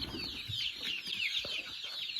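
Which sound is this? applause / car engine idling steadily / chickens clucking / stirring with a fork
chickens clucking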